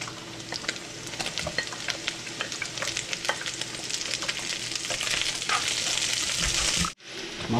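Vegetables stir-fry in a pan as beans are added. A loud, continuous sizzle carries scattered scraping and clattering, and the sound cuts out sharply near the end before resuming.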